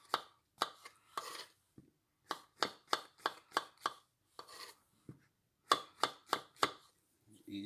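Knife chopping ingredients for beefsteak on a board, crisp separate strokes coming in quick bursts with short pauses, close and fairly quiet, no talking.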